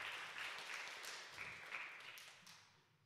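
Church congregation at a young adults' service clapping in thanks, a soft, even patter of many hands heard from a distance, fading out toward the end.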